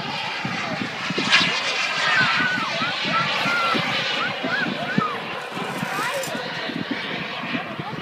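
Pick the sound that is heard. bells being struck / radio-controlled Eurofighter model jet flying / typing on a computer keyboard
radio-controlled Eurofighter model jet flying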